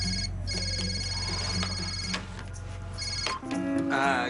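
A telephone ringing several times in a TV drama scene, with steady repeated electronic rings and faint background noise.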